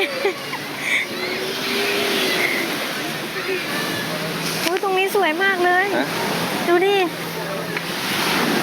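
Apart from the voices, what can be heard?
sea waves at a beach in Pattaya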